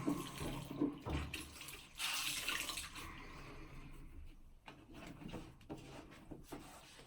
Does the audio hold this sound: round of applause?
no